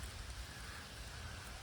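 Steady rain falls on a field of grazing lambs at dusk, a continuous close hiss of drops with no distinct animal calls or voices.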